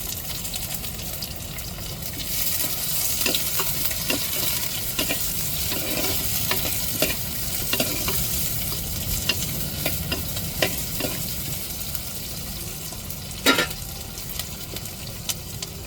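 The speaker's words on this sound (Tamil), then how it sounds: "இப்போ வெங்காயத்தை வதக்கி விட்டுருவோம் தாளிப்புலையே" Chopped onions and cumin seeds sauté in hot oil for an egg curry tempering, giving a steady loud sizzle with scattered crackles and scraping stirs, a sharp clatter near the end, and no talking.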